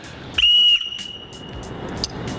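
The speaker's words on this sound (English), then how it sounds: "we have a storm whistle over here. Great for signaling." A storm whistle from a portable survival kit gives one short, loud, shrill blast, then fades to faint background noise.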